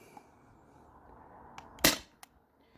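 A Crosman CO2 home defense launcher, either a Salt Supply S2 or a Sabre, fires a single sharp shot, with a couple of fainter clicks around it over quiet room background.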